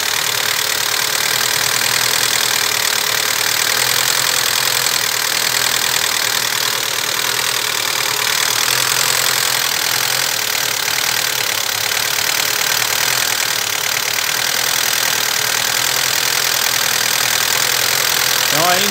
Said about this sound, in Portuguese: Então aí nitidamente aí a gente tá com um problema, ó, caindo a lenta.